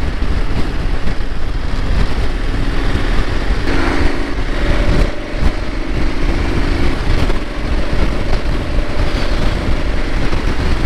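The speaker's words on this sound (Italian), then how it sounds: "E si sente che è un bicilindrico puro." A KTM 1290 twin-cylinder motorcycle engine drones steadily under loud rushing wind, its rumble partly masked, with no speech.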